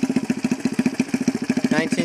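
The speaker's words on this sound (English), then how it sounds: "this is the 75 bobber that I made out of my Honda XL 125" A 1975 Honda XL 125 motorcycle, customized with a custom exhaust, idles close by with a rapid, even putter and a brief throttle rise near the end.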